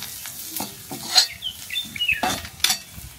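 Onions frying in a pan, a soft sizzle with frequent scraping stirs and metallic clinks of a utensil against the pan, close and moderately loud, no voices.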